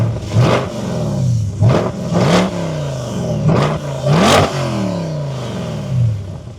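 A C8 Corvette V8 engine revs repeatedly in sharp bursts, pitch climbing and dropping several times, loud and close with no voices.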